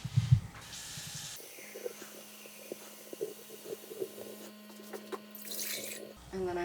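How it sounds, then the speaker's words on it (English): Water runs steadily from a kitchen tap while brine is measured out for regular dill pickles, a low continuous rush with faint clinks and a brief voice near the start. "I need 4 cups of water."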